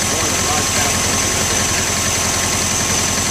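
A 1972 Volkswagen Westfalia engine idles steadily up close, with a rapid mechanical tapping from a valve riding over a loud, constant rumble and broadband hiss.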